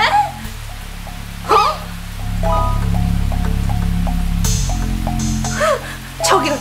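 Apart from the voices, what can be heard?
rain falling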